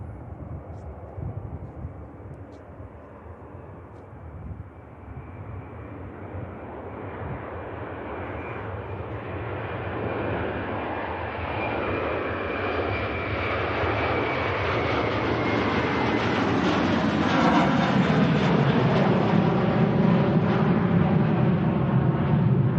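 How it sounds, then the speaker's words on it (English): A Turkish Airlines airliner departs Manchester Airport. Its jet engines make a broad, steady roar that builds gradually from a distant rumble to a loud, close-sounding climb, with no talk over it. "this is Turkish Airlines heading back to Istanbul."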